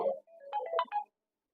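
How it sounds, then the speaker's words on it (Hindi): A phone rings during a recorded computer class, giving a short electronic ringtone of a few tonal bursts lasting about a second, then silence. "इतने फोन क्यों आ रहे हैं?"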